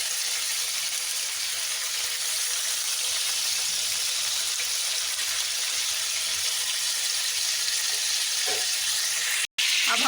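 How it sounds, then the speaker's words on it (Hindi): Chicken pieces frying in oil in a pan for restaurant-style biryani, a steady close sizzle running the whole time with no talk, ending in a brief sharp clatter near the end. "अब हम दूसरी तरफ से भी फ्राई कर लेंगे"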